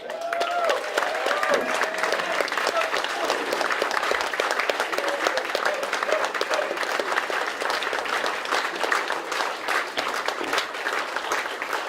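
A crowd applauds at a Canadian political gathering, a long, steady roll of clapping at full strength, with a few voices calling out over it early on.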